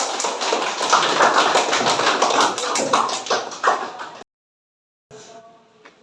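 A mathematics class at Universitas Muhammadiyah Makassar claps for a student group: a quick, close burst of many hands lasting a few seconds, then it cuts off sharply, followed by a faint voice.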